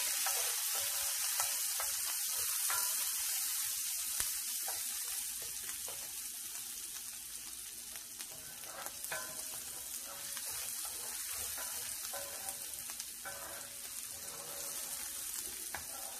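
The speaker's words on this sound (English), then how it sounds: "Go ahead and keep on stirring it. You don't want it to burn or stick." Onions sizzle in a pan while being stirred, a continuous hissing fry with scraping spoon movements throughout, steady and moderately close, no voices.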